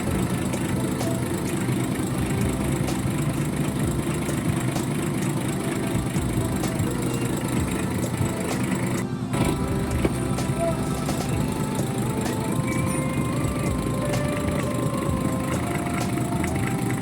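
The straight-six diesel engine of a 10-wheeler truck idles steadily after injection pump calibration, a continuous low rumble with a faint whine over it, and background talk at times.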